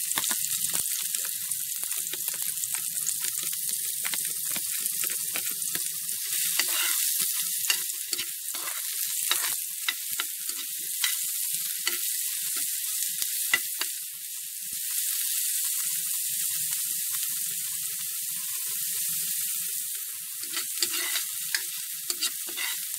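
Garlic sizzles in a pan for tuna pesto pasta, a loud, bright, continuous frying hiss close by, broken by scattered crackles and pops throughout.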